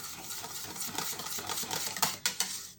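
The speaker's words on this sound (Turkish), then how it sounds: "Ama ben çırpıcı kullanacağım." Rapid metal whisking against a bowl, a steady scraping clatter with a few sharper clinks near the end.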